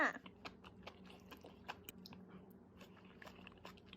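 Close chewing of a bowl of seblak with mixed textures, soft repeated bites and crunches in an irregular rhythm, quiet and intimate with no talking.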